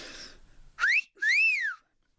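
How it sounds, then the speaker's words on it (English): A person whistles a wolf whistle by mouth: a sharp rising note, then a short gap and a longer rising-and-falling note, loud and close after a brief bit of quiet background murmur. "Give us a wolf whistle."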